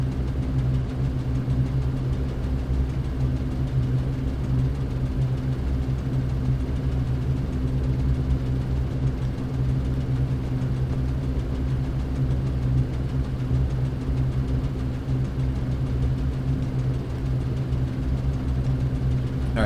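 Steady, droning engine hum from the Hughes Spruce Goose flying boat in Microsoft Flight Simulator, a continuous low rumble at idle with no change in pitch or level.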